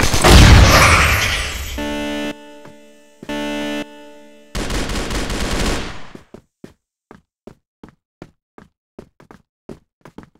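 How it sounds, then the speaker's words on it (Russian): Grenade blast and gunfire in the shooter game CrossFire, Praha map spy mode: a loud rumbling explosion opens, followed by tonal interface beeps and another burst, then a sparse string of sharp knocking shots fading out. "Граната пошла!"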